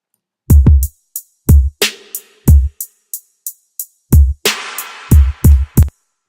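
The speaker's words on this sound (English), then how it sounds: "Hi-hats have a lot of reverb on there as well." A trap beat built in Logic Pro plays crisp, reverb-soaked hi-hats over heavy, booming kick hits, a loud and uneven rhythmic pattern with washy tails between the hits.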